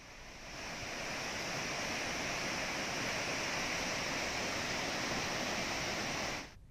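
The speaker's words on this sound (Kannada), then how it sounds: "ಕೃಷ್ಣಾ ನದಿಗೆ ಭಾರೀ ಪ್ರಮಾಣದ ನೀರನ್ನ ಬಿಡುಗಡೆ ಮಾಡಲಾಗಿದೆ" Water released through the gates of Narayanapur dam rushes into the Krishna river with a steady, broad roar like heavy surf, swelling in over the first second and holding loud and even before cutting off near the end.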